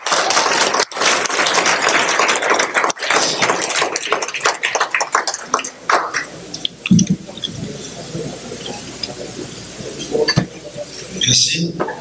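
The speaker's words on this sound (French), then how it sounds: "sous vos applaudissements" Audience applause greeting the arrival of Haitian President Jovenel Moïse at a Haitian community gathering in Brussels: dense, loud clapping through the first half, then thinning into scattered claps and room noise, with a burst at the end.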